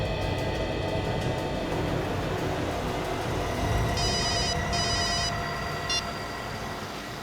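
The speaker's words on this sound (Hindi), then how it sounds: "अपने मोबाइल से उसे फोन लगाओ" A mobile phone rings in short electronic bursts, the first two longer, then a brief third chirp. A dense background rumble resembling a moving vehicle or train continues underneath, and nobody speaks.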